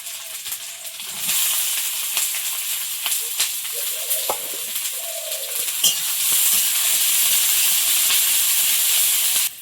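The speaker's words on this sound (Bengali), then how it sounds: "তেলের মধ্যে রসুন কুচি একেবারে একটু পেঁয়াজ কুচি" Chopped garlic and onion sizzle in hot oil, a bright steady hiss that swells after a second and stays loud, with a few clinks and stirring sounds beneath it.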